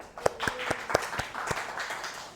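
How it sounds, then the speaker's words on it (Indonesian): Students in a classroom clap together in a quick, steady rhythm, with a series of sharp, close claps. "tepuk tangan"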